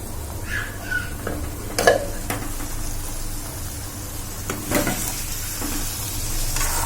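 Fish soup for a Tripura-style sour fish dish bubbles in a pot while being stirred, a soft steady simmering hiss broken by a few clinks and scrapes of a spoon against the pot.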